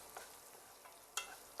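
Green chillies frying in a pan for a cauliflower tomato curry give a soft, low sizzle with a few light stirring scrapes and taps, faint and close.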